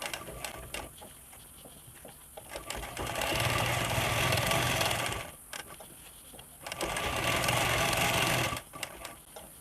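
A sewing machine stitches the ends of two elastic pieces together in two sustained whirring runs of a few seconds each, separated by a quiet pause, close and alone.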